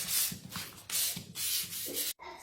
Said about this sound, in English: I'm just very lightly going to wet sand here.